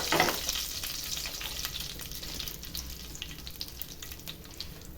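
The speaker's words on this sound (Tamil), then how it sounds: "இந்த தேங்காய் எண்ணெயில் அந்த கருவேப்பிலை பொரிச்சு போடுறதா ரொம்ப வாசனை" Curry leaves fry in coconut oil for a Tamil aviyal, a steady close sizzle and crackle hissing evenly with a few small pops and no talking.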